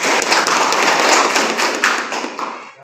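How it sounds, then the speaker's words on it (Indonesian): A classroom of students claps for two classmates, a short burst of loud, close applause that fades out toward the end. "Tepuk tangan buat Ayu dan Saiful"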